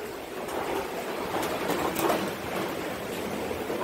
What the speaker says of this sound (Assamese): বৰষুণ কমিছে অকণমান, কিন্তু দিয়ে আছে